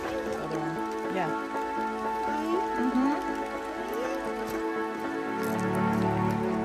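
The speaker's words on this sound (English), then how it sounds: "It's raining on us again!" Steady rain falls outdoors on the Isle of Skye near Dunvegan Castle, a continuous wash of droplets heard throughout, with faint voices and other background sounds mixed into the patter.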